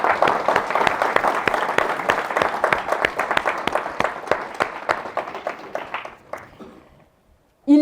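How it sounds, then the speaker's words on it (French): Audience applause at a New Year's address, dense clapping holding steady for about six seconds, then thinning to a few scattered claps and fading out, with a brief voice at the very end. "Je pense qu'on peut les applaudir."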